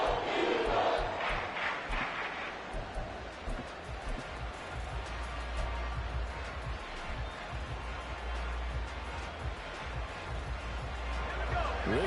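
A football stadium crowd roaring steadily during a game, a broad sustained wash of noise that swells at the start, with commentary voices over it.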